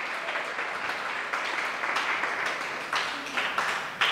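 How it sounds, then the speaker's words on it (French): An audience breaks into sustained applause for a lycée at a school ceremony, many hands clapping in a steady, fairly distant roar with a few louder swells. "Merci de faire un tonnerre d'applaudissements pour le lycée moderne 2"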